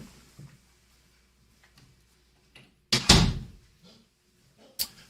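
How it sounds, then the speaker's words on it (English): An indoor door is pushed shut with one solid thud midway, followed by a second sharp knock near the end, amid an otherwise quiet room with a few faint small noises. "I'm going to go shut the door."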